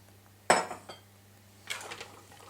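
Crow pie mix being spooned gently into a dish: a sharp clink of a metal spoon against the dish, a smaller tap, then a softer scraping, clattering passage, close and quiet otherwise.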